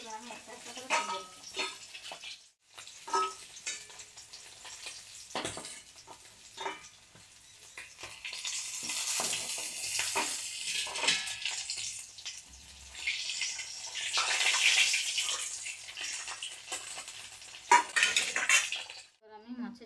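Pieces of rohu fish frying in hot oil in a home kitchen, with a steady hiss of sizzling and the clink of a utensil against the pan as pieces are lifted out, moderately loud and close.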